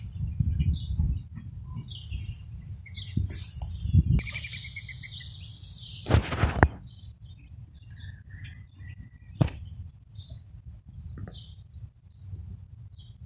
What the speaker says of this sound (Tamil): நிறைய பேர்ட்ஸ் சத்தம் கேட்குது